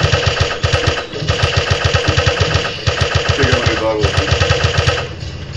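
An Uzi fires in a video game in rapid, evenly spaced bursts that run nearly nonstop over a busy, loud game soundtrack, with brief pauses between strings of shots.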